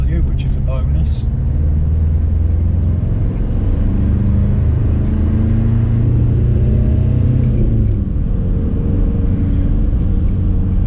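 An older truck with high-lift suspension and big, heavy all-terrain tyres drives along, giving a steady loud low rumble of engine and road noise throughout, with a voice talking over it.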